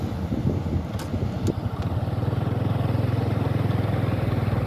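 A motorcycle fitted with waterproof CR7 C643 bi-LED headlights idles and then revs into a steady, pulsing engine throb during a test drive, close and moderately loud, with a couple of faint clicks early on.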